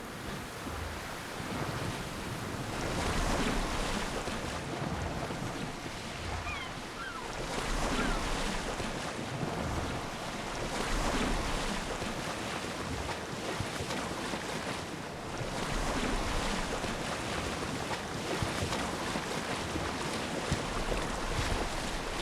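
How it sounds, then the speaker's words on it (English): Ship sailing through ocean waves in the Assassin's Creed Odyssey video game: continuous surging surf and rushing wind roar steadily, swelling in repeated waves over the whole stretch, with no voices. "I don't think this boat can take those waves."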